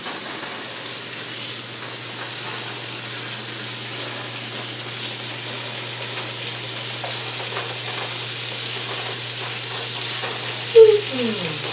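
Meatballs frying and browning in a hot pan, a steady close sizzle with faint stirring and a brief clatter near the end, no voices.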